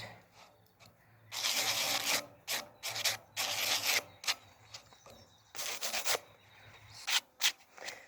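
Hand sanding with coarse 120 grit sandpaper, a run of dry, raspy rubbing strokes in uneven bursts with brief pauses between them, close and fairly loud, no talking.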